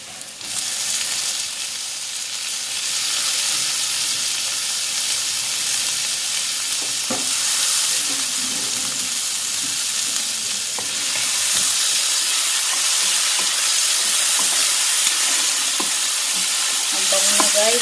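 Tomato, onion and garlic sauté in a pan with a loud, continuous sizzle and hiss, occasional stirring clatter breaking through the steady frying noise.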